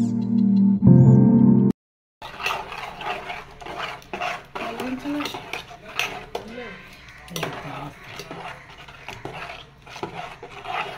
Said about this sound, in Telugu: అలా రెండు మిక్స్ చేసుకుంటూ ఉండాలండి.